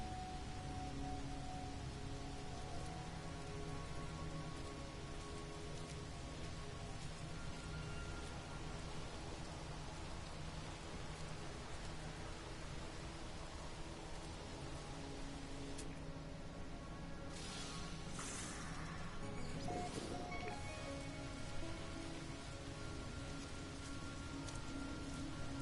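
Rain on an alien planet in the space game No Man's Sky, falling as a steady soft hiss under low droning tones with no one talking.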